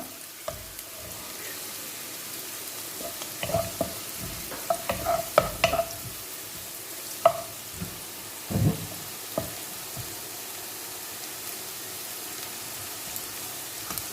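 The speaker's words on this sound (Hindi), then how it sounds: "तो अच्छे से चलाएंगे, हमें ज़्यादा नहीं चलाना है, ऐसे हल्का हल्का ही करना है।" Crispy chilli chana with onion frying in a pan is stirred lightly and gently. Scattered soft scrapes and clinks rise over a low continuous sizzle, with quiet gaps between the strokes.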